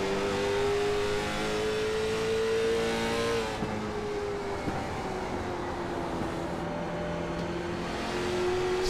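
Onboard engine of the number 8 late model stock car at North Wilkesboro, a steady loud drone whose pitch holds, then drops as the throttle eases around three and a half seconds, before building again toward the end.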